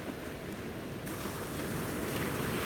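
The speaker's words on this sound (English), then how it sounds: "Yes, Monica, the waves are absolutely mesmerizing today." Ocean waves washing onto a beach at sunrise, a steady broadband wash of surf with some wind noise on the microphone, continuous and fairly close with no talk.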